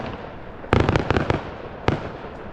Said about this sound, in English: Fireworks don't faze him.